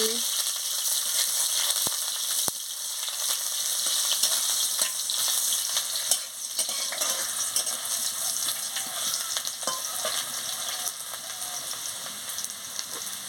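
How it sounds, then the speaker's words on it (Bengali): Chopped onions sizzle steadily in hot oil with panch phoron and dried red chillies, a continuous bright frying hiss with a few faint clicks of stirring. "পেঁয়াজ কুচি দিয়ে দিচ্ছি দিয়ে ভালো করে ভেজে নিচ্ছি"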